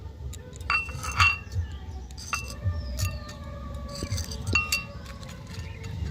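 Several light metallic clinks as city gold imitation necklaces are dropped into a bowl of tamarind pulp, a few close, sharp taps spread over a few seconds against low background rumble.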